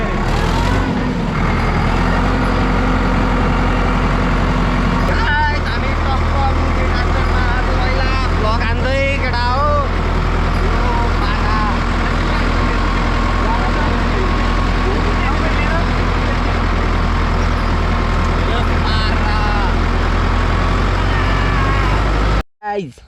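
A tractor engine drones steadily and loudly while the tractor is driven, with voices talking over it and a brief clatter near the end.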